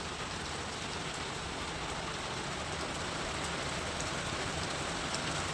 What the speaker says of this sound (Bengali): খুব বৃষ্টি হচ্ছে এখন।